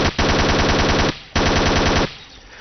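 Two long bursts of rapid automatic gunfire from the Ghost Recon Island Thunder video game, loud and close with short pauses between them.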